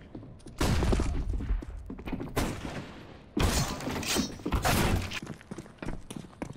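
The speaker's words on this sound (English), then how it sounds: "Deploying flashbang." Flashbang grenade in the video game CS:GO: several sharp bursts, each a loud crack followed by a hissing ring, going off in separate blasts across the clip.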